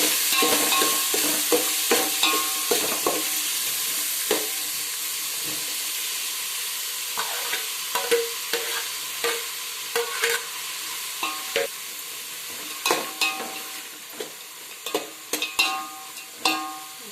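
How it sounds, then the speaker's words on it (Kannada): Chilies, tomato and carrot being stirred in a pan for pulao: a low background sizzle with repeated sharp clinks and scrapes of a spoon against the pan, coming in irregular bursts up close. "ಮೆಣಸಿನಕಾಯಿ, ಟೊಮೆಟೊ, ಗೆಜ್ಜರಿಯನ್ನು ಅದರಲ್ಲಿ ಹಾಕಬೇಕು. ಹಾಕಿ ಮಿಕ್ಸ್ ಮಾಡಿ"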